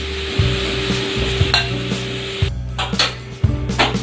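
Young jackfruit frying in oil in a pan crackles steadily as a spatula stirs and scrapes it about once a second, each scrape a short, distinct rasp over the sizzle, with faint music in the background.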